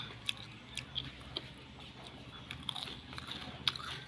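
Someone bites and chews a crunchy snack up close, a string of small sharp crunches and clicks over a quiet background.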